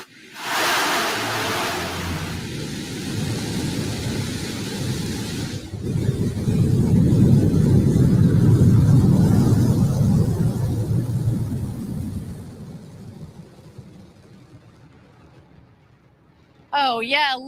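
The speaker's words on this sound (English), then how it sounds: "Command engine start. 2, 1. Ignition." A Blue Origin New Shepard rocket ignites and lifts off on the NS-14 test launch, a deep, swelling rumble that builds to a loud roar and then gradually fades into distance, with a voice breaking in at the very end.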